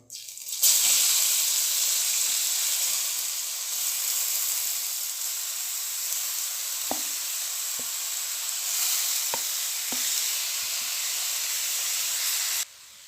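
Grated carrot sizzles loudly in a hot pan just after raisins were fried for carrot laddu, a steady hiss broken by a few soft clicks of stirring.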